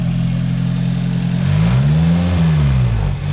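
A Perodua Myvi engine, running without its PCV valve connected, held near 2000 RPM during carbon cleaning, droning steadily and loudly up close before its pitch swells upward and eases back, with no voices.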